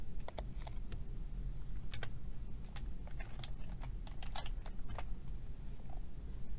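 Irregular clicks of typing on a computer keyboard, entering reading time into a library summer reading challenge site, close and steady against a low room hum with no talking.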